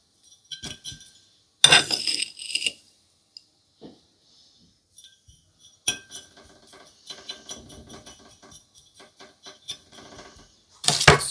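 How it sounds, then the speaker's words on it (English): Potting mix for a carnivorous Pinguicula plant poured and scraped into a small homemade pottery pot, with close bursts of gritty rustling and light clinks against the ceramic, separated by quiet pauses. "I'm just going to add this mix in my pot"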